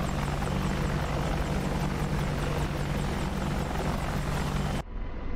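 AH-64D Apache helicopter holding a steady hover in the DCS flight simulator, a loud continuous rotor and turbine drone with rhythmic blade chop, running without talk until it cuts off abruptly near the end.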